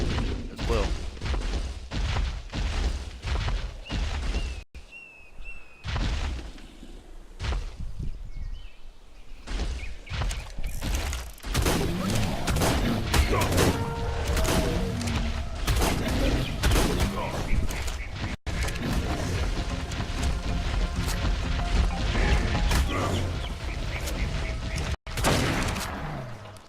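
Rifle gunshots from the video game ARK, fired repeatedly in dense bursts amid busy game sounds and background music, loud and continuous, with talk mixed in.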